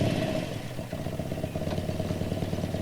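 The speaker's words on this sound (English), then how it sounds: "whilst Peter Fogg started up his motorbike again," A motorcycle engine runs steadily at a mid-pitched idle, rumbling continuously and close by without any speech.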